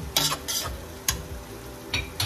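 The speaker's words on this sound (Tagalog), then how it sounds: "Ayan, kumukulo na siya." Chicken kaldereta boils, sizzles and bubbles in a pan while a utensil stirs and scrapes in a few short bursts, close up, with no talking.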